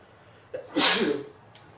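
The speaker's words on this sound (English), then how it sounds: "I gotta sneeze" A single sharp sneeze, with a short breathy intake before it, close and fairly loud against a quiet room.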